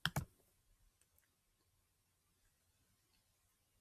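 A single mouse click, or a quick pair, sounds near and faint at the start of an online tutorial, then only quiet room hiss follows.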